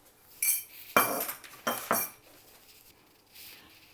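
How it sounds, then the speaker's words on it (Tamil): Eggs are beaten in a bowl for Sri Lankan egg coffee, heard as a few quick metallic clinks and scrapes of utensil against dish in short bursts, fairly quiet with no talking. "இதுக்கப்புறம் நம்ம முட்டையை அடிச்சுக்கலாம்"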